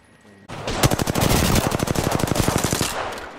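R-301 rifle fire in Apex Legends: one sustained automatic burst of about twenty-five rapid, evenly spaced loud shots that starts abruptly and ends with a short tail.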